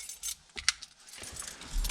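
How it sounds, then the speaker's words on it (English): Car keys jangle close by in short metallic bursts, a few quick shakes and clinks in a quiet space with no talking. "Keys are right here."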